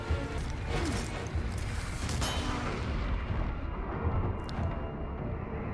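Rifle gunfire and combat in the video game Resident Evil 4 Remake, a dense, continuous barrage of booming shots and crashes at steady loudness throughout, with no clear gaps between impacts.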